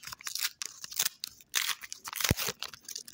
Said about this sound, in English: I'm going to open one pack because I'm bored